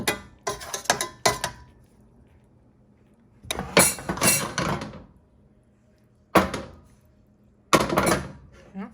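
A lid set down over a pan of oyster mushrooms simmering in jerk sauce, giving several sharp metallic clinks and rattles in short bursts with quiet gaps between.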